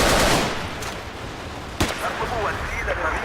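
Gunfire from pistols and assault rifles in a Battlefield video game set in Somalia: a loud burst of rapid shots at the start and a sharp single blast near the end, with a voice talking over it.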